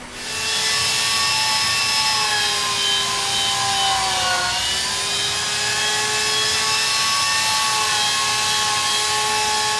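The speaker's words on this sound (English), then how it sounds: "It's basically a conical special bit that goes onto a die grinder that's got tiny teeth all around." Die grinder fitted with a conical burr bit that has tiny teeth all around, carving a 90 kg ice block into a cockatoo sculpture; a loud, steady high-pitched whine runs throughout, dipping briefly in pitch midway as the bit loads.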